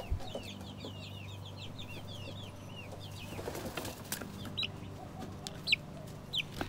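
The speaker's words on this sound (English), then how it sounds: "We're going to show the chicks here getting some larvae." Chicks cheep busily and close by while pecking at black soldier fly larvae, with a few louder peeps and light scratching over a low background hum.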